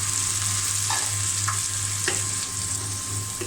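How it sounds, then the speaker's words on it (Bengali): Ground spices with turmeric, coriander, salt, ginger, cumin and garlic paste frying in a pan, a loud continuous sizzle with a steady low hum and occasional light scrapes of a stirring spoon. "এখন আমি মশলাটা ভালো করে কষিয়ে নেব।"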